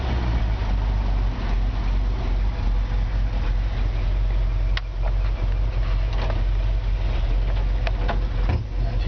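Engine of a 1951 Ford F1 truck running with a steady low drone, swelling slightly as it is given gas, heard up close without talking.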